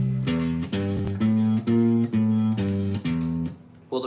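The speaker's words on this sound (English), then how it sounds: "Let's say we do a bass line that's all quarter notes that sounds like this." Bass guitar playing a steady quarter-note line, about two even notes per second with short gaps between them, up close and alone with no talking.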